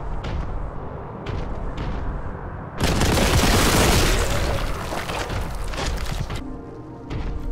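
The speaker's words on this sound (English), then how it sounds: "Have some explosions, thank you, sir!" Video game combat in Warhammer 40K Boltgun sends out a loud, dense burst of explosions and rapid gunfire lasting several seconds. Quieter stretches of action sit on either side of the burst.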